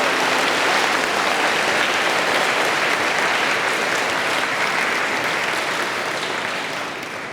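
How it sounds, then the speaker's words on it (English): Dense, sustained applause from a school audience at a CPR training event congratulating students, loud and continuous throughout before tapering slightly at the end. "I want to give you all a massive round of applause to congratulate yourselves"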